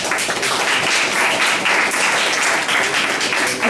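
Sustained audience applause at a North San Juan town hall meeting, a dense, steady wash of many hands clapping at close range for nearly four seconds with no one speaking over it.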